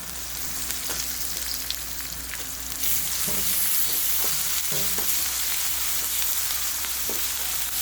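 Ginger garlic paste sizzling and frying in a pan, with a dense steady crackle and occasional scraping knocks as it is stirred.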